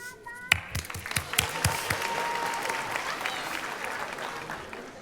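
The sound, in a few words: applause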